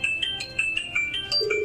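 A phone ringtone plays through a Sony SRS-XB20 portable Bluetooth speaker, a short, repeating run of bright electronic melody notes at steady volume, with no talking.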